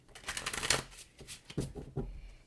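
Small tarot cards being shuffled by hand, with quick riffling bursts and soft papery flicks in uneven clusters, close and fairly quiet, with no talking.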